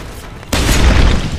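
A sudden loud burst from a gas or EMP grenade blast in Deus Ex: Human Revolution, going off after a quiet stretch and rumbling on with broadband noise.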